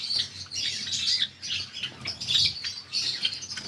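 Lovebirds and Java sparrows chirp and tweet continuously in a breeding room, a dense overlapping chorus of bright calls with occasional wing flutters, fairly close and steady throughout.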